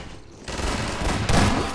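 A gunshot from Half-Life 2 Episode One lands as a sudden loud burst, followed by a second heavier blast with a rumbling tail, loud and close.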